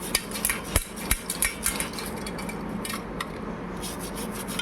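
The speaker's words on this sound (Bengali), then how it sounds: "প্রথমে নুপুরের সোজা দিকটা ঘষে নেব" Silver anklets rubbed clean by hand, a steady scrubbing rasp with sharp metallic clinks and taps scattered through the first half, close and alone with no voices.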